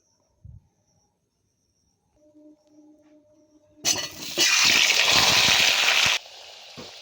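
Cut potatoes drop into hot mustard oil for a mutton curry, bursting into a sudden loud, bright sizzle that holds steady for a couple of seconds before cutting off, after a few soft clinks.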